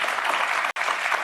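Applause from an audience in a replayed speech, a dense steady wash of clapping broken by one abrupt instant cut near the middle, loud and continuous with no talk over it.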